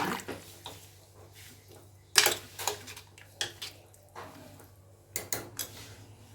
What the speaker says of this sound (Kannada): ಈಗ ಕುಕ್ಕರ್ ಮುಚ್ಚಿಬಿಡೋಣ